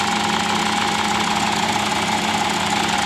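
A 2.5 litre five-cylinder car engine with a check engine light on idles steadily up close, a continuous even hum with a faint rough pulsing, no voices.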